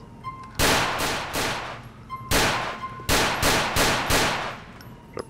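Police shootout gunfire in GTA IV, sharp loud shots fired in quick bursts of two to four with short pauses between, close and dry, with no talking.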